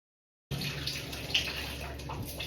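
After a moment of silence, a shower starts and runs as a steady, close hiss of spraying water with faint splashes, holding at an even level to the end.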